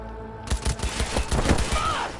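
Gunfire erupts in Cyberpunk, a loud rapid volley of shots that begins suddenly and rattles on steadily for about two seconds with no voices.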